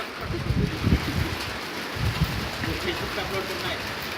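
Hailstones fall in Tabuk, Saudi Arabia, with a steady close clatter of ice pellets on hard ground, a few louder bursts of impacts, and wind buffeting the microphone.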